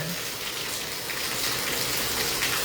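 Heavy rain pours down in Hisar amid strong winds and a storm, a dense, continuous hiss of falling water that swells slightly louder partway through, with no voices.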